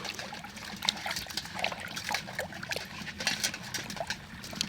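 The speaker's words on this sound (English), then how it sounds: "move this bucket over here, I'll just kind of rinse it out" Clay is rinsed off carved pipestone in a water bucket, giving soft, close trickling and sloshing with light splashes. The water noise is quiet and continuous.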